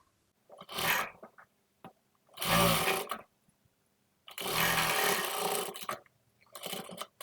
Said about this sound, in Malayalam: ആദ്യം ഞാൻ നോർമൽ ഫൂട്ട് വെച്ചിട്ടാണ് സ്റ്റിച്ച് ചെയ്യുന്നത്